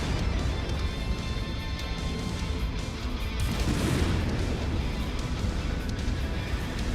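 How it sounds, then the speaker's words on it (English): A missile launcher explodes in MechWarrior 5: Mercenaries, giving a sustained loud roaring blast with dense rumbling noise that swells around the middle and stays heavy throughout. "Nice shot, missile launcher."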